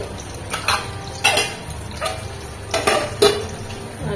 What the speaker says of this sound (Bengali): আর এখানে ভাজাভুজি করছি, আলু ভাজি, কাঁকরোল ভাজি, পটল ভাজি চলছে।